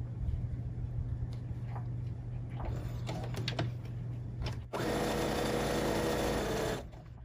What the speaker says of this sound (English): Then I'll just continue stitching around, making those same little movements.